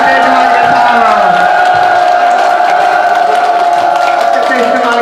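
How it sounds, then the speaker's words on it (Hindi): A crowd cheering and whooping loudly for an elderly man, a dense, steady roar of voices with some clapping mixed in, close and sustained. "एक बार पापा जी के लिए अच्छे से तेज आवाज के साथ ताली बजा देंगे जी"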